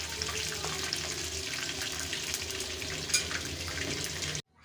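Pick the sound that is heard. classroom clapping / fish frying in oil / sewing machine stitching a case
fish frying in oil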